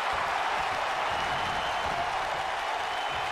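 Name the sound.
wrestling arena crowd cheering in video game WWE 2K19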